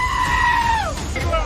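One loud, close goat gives a wavering bleat that bends down in pitch, then a shorter second call follows, over a busy background murmur.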